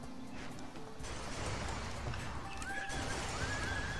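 A horse in ArcheAge whinnies loudly amid clip-clopping hooves and game-like background noise, with a bright rising call near the end.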